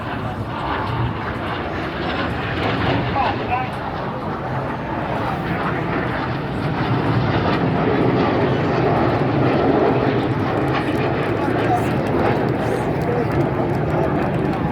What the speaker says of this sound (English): Each aircraft performing this dynamic barrel roll for the colourful and dynamic Synchro